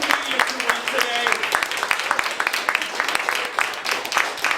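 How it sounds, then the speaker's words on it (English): Audience applause at a stand-up comedy club show, a dense, steady patter of claps lasting throughout, mixed with voices and crowd noise. "Please give a round of applause to all the comedians who went today"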